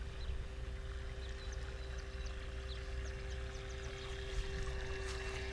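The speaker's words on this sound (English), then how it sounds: "It's interesting the way it cuts the water." A remote control boat cuts through water with a faint, steady motor whine over soft splashing and lapping, heard from a distance.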